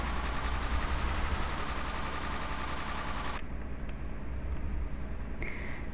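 Truck sounds in Euro Truck Simulator 2 heard from outside the cab: a loud, steady engine drone with a hiss and a high whistle, then the sound abruptly shifts to a muffled version with faint clicks.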